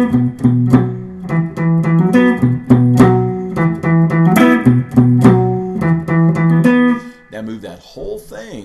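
An electric guitar plays a blues riff with power chords and a hammer-on: clear, close picked notes and chords in a rhythmic pattern, fading at the end as a brief voice may come in.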